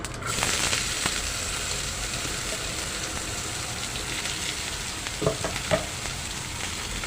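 Chopped onion and cumin seeds fry in hot oil for a Maharashtrian capsicum masala gravy, a steady dense sizzle running throughout with a couple of soft stirring scrapes near the end, no talking.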